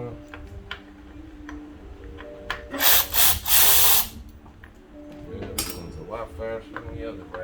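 A ratchet clicks in quick runs while spark plugs come out of a 2014 Hyundai Elantra 1.8-liter engine, with louder metallic rattles and clinks of tools and plugs in between, close and fairly loud.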